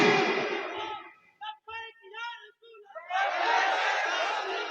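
A crowd at a religious gathering roars back a slogan in unison, loud and massed, in bursts between a speaker's short chanted calls.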